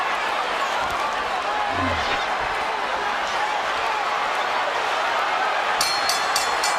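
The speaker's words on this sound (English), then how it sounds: "There's the bell ending the 9th round." A boxing bell rings several quick strokes to end the 9th round of the Floyd Mayweather vs Miguel Cotto fight, cutting through a loud, steady roar of arena crowd noise near the very end.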